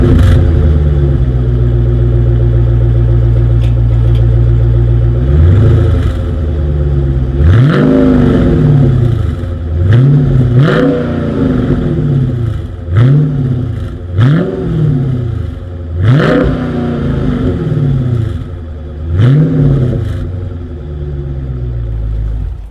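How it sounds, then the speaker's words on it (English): A 2020 Dodge Challenger R/T Scat Pack V8 idles through its dual exhaust with a deep burble, then revs repeatedly in sharp rising bursts, loud and close, each dropping back to a throaty idle. "As always, here is that exhaust clip."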